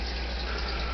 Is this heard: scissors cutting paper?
no